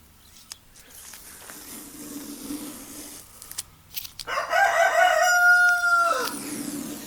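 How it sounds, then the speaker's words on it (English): A rooster crows once nearby, a loud drawn-out call lasting a couple of seconds, following a few quieter clucks and faint outdoor background. "Hope you guys like roosters,"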